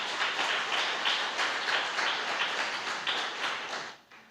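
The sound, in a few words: church congregation applauding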